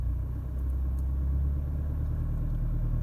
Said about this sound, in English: my left foot's on the brake, my right foot's on the accelerator. I'm just going to bring the revs up